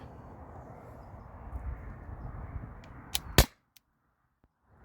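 A T4E TR50 launcher fires a 4.6 gram Devastator round: after a few seconds of steady rushing hiss comes one sharp, loud crack, followed by near silence and a faint tick.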